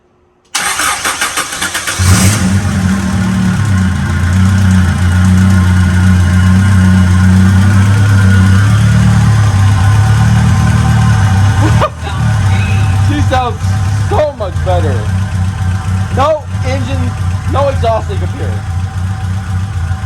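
An Acura Integra GSR with a B18C1 engine cranks briefly, then catches and settles into a loud, steady idle with a low throbbing rumble, close by, while voices talk over it.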